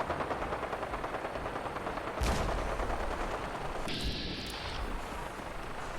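Gunfire rattles from Railroad heavies fighting in Fallout 4's survival mode, with rapid automatic bursts repeating steadily at a moderate distance and a heavier burst partway through. The shooting is continuous and no one speaks over it.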